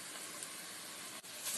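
Onion and a bay leaf fry in cooking oil for a chicken biryani. A steady, close sizzle and hiss carries on alone with no break, dipping only for a moment near the end.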